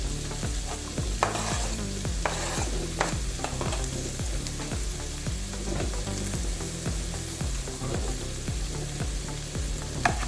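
Chopped green chili, ginger, garlic and onion sauté in a pan for an egg curry, with a steady close sizzle and repeated rhythmic scrapes of a spatula stirring throughout, no voices.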